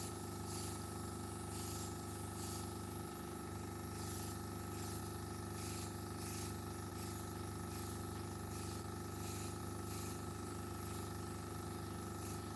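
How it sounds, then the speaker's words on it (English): Airbrush spraying makeup onto skin, a steady continuous hiss of air with faint pulsing strokes, close and quiet, with a low compressor hum underneath and no talking. "And you see I'm doing a combination of airbrush strokes."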